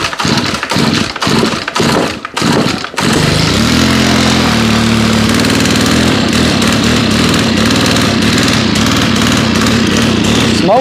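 A lawn mower's small petrol engine, left five months in storage without fuel stabilizer, gives a few sputtering pull-start attempts before catching and settling into a loud, steady, continuous running drone.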